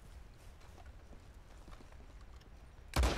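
Faint, steady clip-clop of horse hooves at a walking pace in the video game Red Dead Online, ending in a sudden loud burst of noise.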